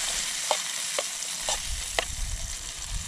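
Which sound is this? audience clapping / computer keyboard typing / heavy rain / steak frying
steak frying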